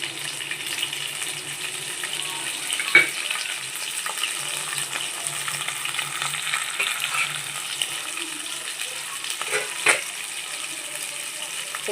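Ginger garlic paste frying in oil for gongura rice, a steady close sizzle with a few soft stirring scrapes and occasional light clinks, no voices.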